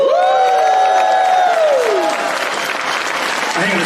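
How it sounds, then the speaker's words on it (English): Audience applause at a live Q&A panel in Portland, a sustained wash of clapping and cheering from a crowd, loud and steady throughout, with a brief tonal whistle or feedback sweep fading out near the start. "I want to get this applause here on record"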